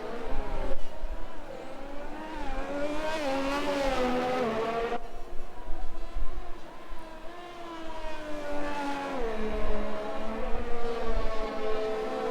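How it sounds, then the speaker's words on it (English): Race car engine from a racing video game at Monza's Autodromo Nazionale on a damp track, howling through rising and falling revs with gear shifts, steady and fairly loud, with a commentator's voice talking over it. "So Lights is the first one out on track on the intermediate tyres."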